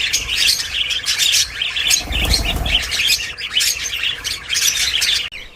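Golden cockatiels chirp busily in an aviary, a dense, continuous chorus of bright overlapping calls with soft wingbeats in the background and no pauses.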